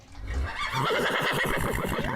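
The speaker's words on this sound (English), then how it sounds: "coaxes the nervous horse out of the pasture" A nervous horse whinnies while being coaxed out of a pasture during B.C. wildfire evacuations, a close, loud neigh with a shuddering, pulsing rhythm that fills the whole moment.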